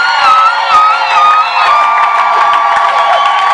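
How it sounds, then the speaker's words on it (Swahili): A church congregation cheers and ululates in a loud, continuous wave. High, warbling trilled voices ride over a busy crowd roar, with scattered shouts and claps throughout. "Piga Yesu shangwe na vigelegele"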